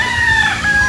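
A tornado hatch gamefowl rooster on a farm in Norzagaray, Bulacan gives a loud, close crow, a single sustained call heard alone.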